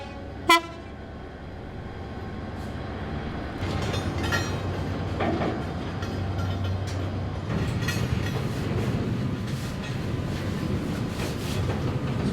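A freight train pulls in at the Onllwyn coal washery in the Dulais valley. A sharp knock comes first, then a steady rail rumble with metallic squeals that grows louder and closer, with no talking.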